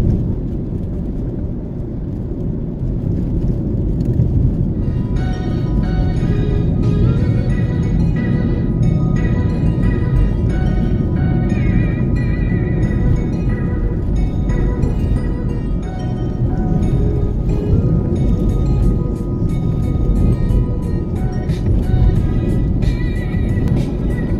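A car driving the rough road from Scotts Pass to Porus in Jamaica, with a loud continuous low engine and road rumble throughout and faint rattles and clicks from the cabin.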